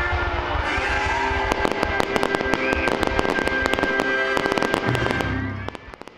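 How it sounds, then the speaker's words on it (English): Fireworks set off for a company's 75th-anniversary celebration crackle and pop in dense, rapid volleys over a continuous rumble, with bursts packed closely together before tapering off at the end. "it was topped off with a fireworks show"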